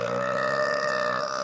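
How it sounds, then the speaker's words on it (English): A long, loud, drawn-out burp with a steady droning tone lasts about a second and a half, with no talk over it. "Was that a real burp or was that sound effect?"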